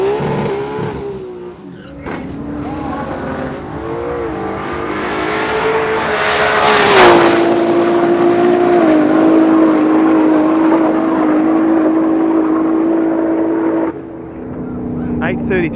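A Barra-powered Ford XW running a big Precision turbo, water-to-air intercooler and Fuel-Tech EFI launches at a street drag racing event, a loud, close engine climbing in pitch with a rising turbo whine, then a long sustained high-power pull before backing off.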